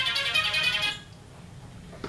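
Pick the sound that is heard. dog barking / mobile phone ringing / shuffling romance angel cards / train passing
mobile phone ringing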